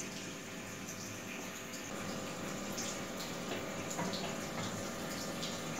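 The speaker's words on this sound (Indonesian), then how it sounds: "sekarang kita siram pakai air panas, Mams, supaya kuman-kuman di botol ini pun ikut mati" Hot water poured into washed glass bottles to sterilize them before they are filled with a garlic remedy: a steady, fairly quiet splashing stream running without pause throughout.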